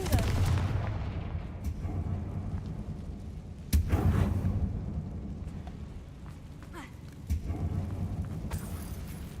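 Confringo spell explosions in Hogwarts Legacy, a series of deep booms and blasts at irregular intervals, the strongest near four seconds, over a rumbling game soundtrack.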